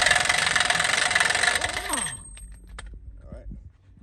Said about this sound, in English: So I'm gonna go ahead and take this nut off first.